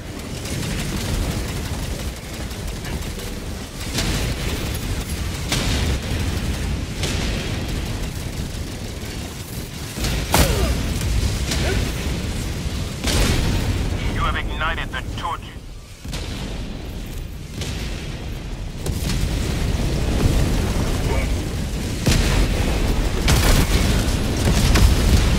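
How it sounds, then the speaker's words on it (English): Orbital barrage in Helldivers 2, heavy explosions booming one after another over about twenty-five seconds, loud and rumbling with sharp impacts, under occasional voices. "Orbital barrage incoming."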